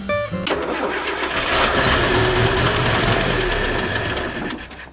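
Land Rover Series 3 engine, sat unused for 24 years, cranking briefly then catching and running at a steady loud idle before easing off at the end.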